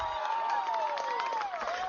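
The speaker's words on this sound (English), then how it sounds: "Lots of cheering going on over at the other diamond." A crowd cheers and whoops from a neighboring diamond at a 14U youth baseball game, a steady wash of distant voices with a few shouts standing out.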